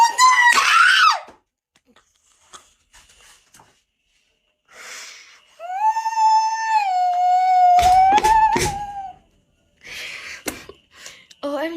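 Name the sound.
people screaming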